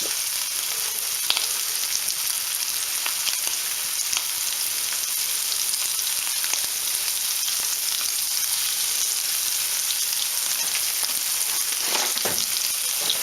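Fish fillets in Cajun-style breading frying in very hot oil, a dense, loud, continuous crackling sizzle close by, with no talking.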